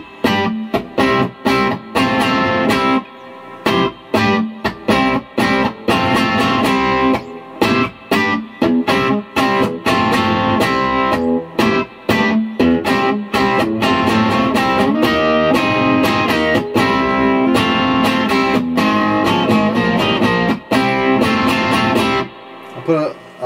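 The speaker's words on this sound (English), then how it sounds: "Just to give you an idea of like the early breakup." Electric guitar played through a Peavey Classic 30 tube amp set for early breakup, lightly distorted chords strummed in a steady, loud rhythm with short pauses between phrases.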